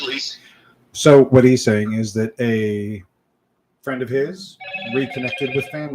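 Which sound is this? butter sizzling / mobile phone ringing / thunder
mobile phone ringing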